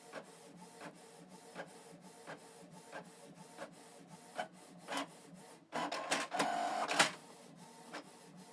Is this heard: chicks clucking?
no